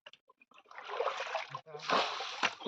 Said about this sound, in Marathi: अरे तुझं हे पाणी चालू ठेवलेलं आहे